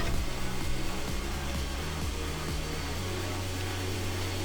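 A heat tool blows hot air onto glue under an earbud battery during a Bose SoundSport Wireless Free repair, giving a steady, even whooshing hum with a faint pulsing at first.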